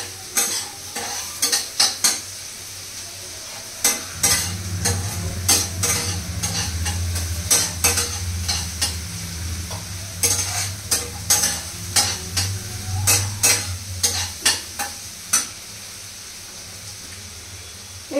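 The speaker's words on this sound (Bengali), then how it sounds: "পেঁয়াজটা একটু নুন দিয়ে মানে দিচ্ছি যাতে তাড়াতাড়ি গরম হয়ে যায়।" Finely chopped onion fries with salt in a hot pan, a steady sizzle under repeated scraping and clattering stirs from a spatula, close and busy with no voices.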